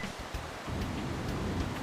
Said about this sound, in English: This downpour is being caused by a power emanating from the Cave of Origin.